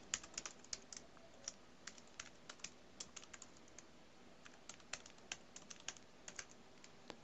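Typing on a computer keyboard while entering a server address and database into an SDK tool: quiet, close key clicks in irregular bursts with short pauses.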